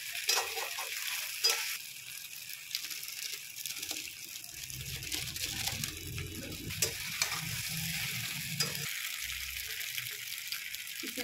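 Pasta being stirred with pasta masala in a hot pan makes a constant bright sizzle with intermittent scraping stir strokes, close by, and faint talk drifts in at moments.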